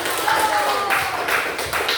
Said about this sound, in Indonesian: Ya, bagus, berikan tepuk tangan.